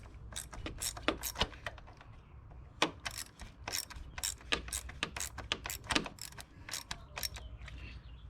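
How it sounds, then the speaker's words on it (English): Rapid metallic clicking of a 5/16 socket wrench ratcheting as it tightens a radiator hose clamp on a 2005 Cadillac CTS, heard as repeated close, crisp bursts of clicks with short pauses between strokes. "usually I like to use a 5/16 socket to tighten it up"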